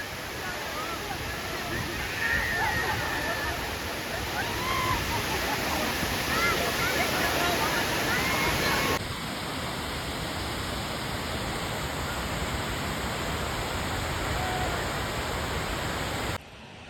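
Water rushing over a dam in Gir, a loud unbroken roar of falling water close by that holds steady throughout.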